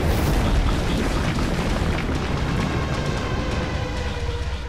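Earthquake rumble effect for a fault line rupturing three miles underground, a loud broadband roar that hits at once and then sustains with gradual fading.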